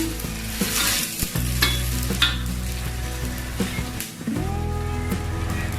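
Loud continuous sizzling of chilies stir-frying in a hot pan for a spicy tempe dish, with scraping stirs and clinks of a utensil throughout.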